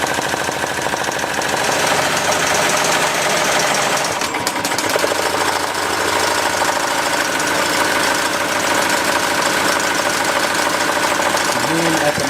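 A Melco Bravo X embroidery machine stitches a patch at 800 stitches a minute, a loud, steady rapid mechanical chatter with rhythmic clacking that runs throughout, close and unbroken.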